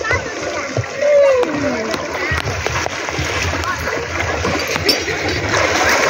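People bathing in a river splash at an open bathing spot, with irregular close splashes over steady flowing water while voices, including children's, chatter in the background.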